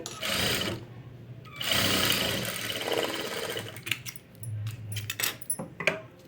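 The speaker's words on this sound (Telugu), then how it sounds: "దీని మీద ఇలా పెట్టేసుకుని ఇలా నీట్గా కుట్టుకుంటూ వెళ్ళిపోవాలి" A sewing machine stitches the front part of a katori blouse in short whirring bursts separated by pauses, with light clicks and handling of cloth between runs.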